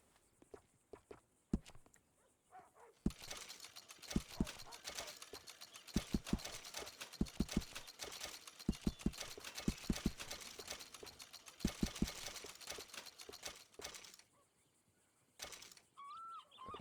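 Horse hooves clip-clop in a steady trotting rhythm inside the video game Red Dead Redemption 2, close and fairly loud, with a few heavier thuds and a pause near the end.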